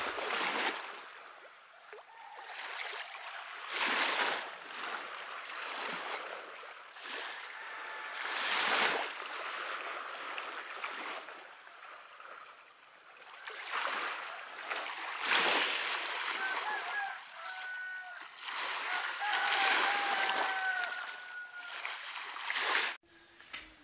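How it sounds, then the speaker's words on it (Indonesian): Ocean waves roll in at sunrise on Seram Island, with several distinct surges of surf washing ashore in slow swells and retreating between them, moderately close and unaccompanied by talk. "Coba dengarkan suara ombak dan perhatikan cahaya yang mulai naik."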